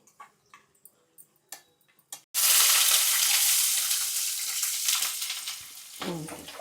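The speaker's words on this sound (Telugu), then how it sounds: "ఇదిగోండి అవుతుంది, చూసారా, చక్కగా వేగుతున్నాయి." Food goes into hot oil in a pan after several sharp taps, bursting into a loud, steady sizzle that stays up close and slowly eases, in a home kitchen.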